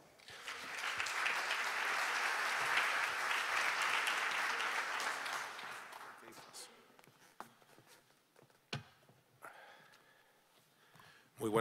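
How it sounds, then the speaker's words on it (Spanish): Audience applause for a speaker being introduced at a Chilean innovation event, a loud sustained burst for about six seconds that fades into scattered claps, shuffling and small room noises. "Un aplauso para él."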